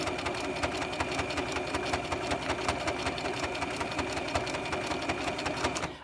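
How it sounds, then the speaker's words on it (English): Sewing machine running a continuous zigzag stitch around the edge of a baby wipe, a steady rapid mechanical whir with a regular needle rhythm, close and even from start to finish. "just doing the zigzag all the way around"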